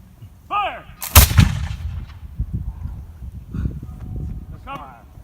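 Flintlock muskets fire a volley at a historic reenactment, a sharp, very loud blast followed by rumbling echo and crowd noise, with a man calling commands before it and brief whistle-like tones around it.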